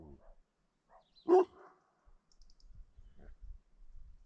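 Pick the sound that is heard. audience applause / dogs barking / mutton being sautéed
dogs barking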